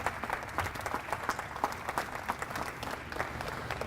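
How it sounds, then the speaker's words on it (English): An audience at an airline museum's annual meeting claps in a short, steady round of applause, many hands patting together at moderate distance with no voices over it. "So I'd like to give Eric a big round of applause."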